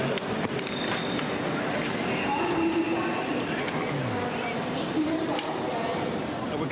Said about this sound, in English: There's a train coming in now.